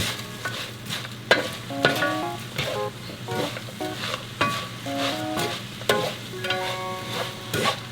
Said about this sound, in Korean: 양념이 이 멸치하고 호두에 스며들도록 이렇게 잘 볶아주세요